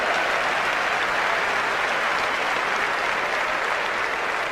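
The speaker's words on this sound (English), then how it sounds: "Give her a round of applause" Applause from a crowd at a motivational talk, a continuous, even wash of many hands clapping that holds steady and loud throughout.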